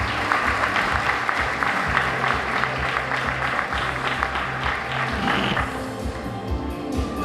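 Audience round of applause for an honored teacher at a Wicomico Teacher of the Year celebration, sustained full-room clapping with crisp individual claps that thins out near the end.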